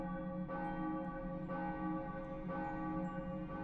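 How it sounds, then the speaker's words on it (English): A deep bell in a video game tolls four times at even one-second intervals to summon a dragon, each strike ringing with a sustained metallic hum, steady and moderately quiet. "Summer Dragon. With a bell, I guess."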